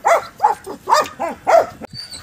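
A Belgian Malinois at a dog farm barks five times in an even, quick rhythm, loud and close, with short gaps between barks.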